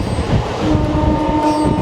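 A Howrah to Digha local train runs at about 75 to 80 km/h with a steady, loud rumble of wheels and carriage noise throughout, close and continuous, with no talk.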